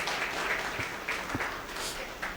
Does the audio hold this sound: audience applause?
yes